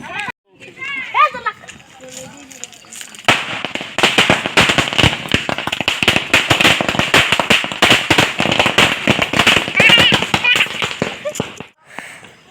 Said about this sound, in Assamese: ইফালে বাপেকে আৰু পাপাই একদমবাৰে আৰু বোমা মাৰাত লাগি আছে